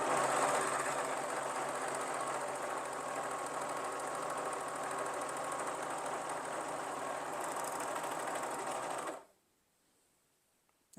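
A Babylock Vibrant serger runs steadily at high speed stitching stretchy fabric, a continuous close whirring hum for about nine seconds before it stops and the room falls quiet.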